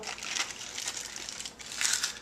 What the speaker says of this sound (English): And then I roll it up in this wax paper like so.